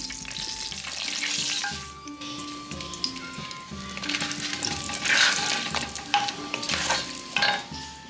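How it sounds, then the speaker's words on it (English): Chopped onions sauté in melted butter and oil with whole spices in a large pot, giving a continuous close sizzle with scraping stirs and clinks of a utensil, no voices. "Then in went the chopped onions, which I sauteed until they turned soft and lightly golden"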